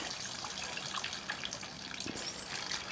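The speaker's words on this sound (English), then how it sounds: "I can get rid of the water with this valve" Water drains from a valve on a home irrigation system, a steady faint gushing hiss that runs alone throughout.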